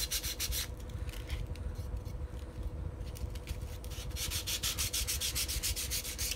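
Sandpaper of 150 grit rubs along the sharp edges of a wooden stropping block in quick, repeated back-and-forth strokes. The scratching is close and fairly quiet, and no one speaks.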